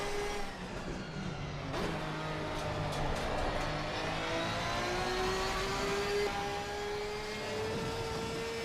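Race car engine lapping a circuit in Assetto Corsa Competizione, a steady loud drone with rising and falling pitch as it accelerates and shifts through gears, continuous and close throughout, with no talk over it.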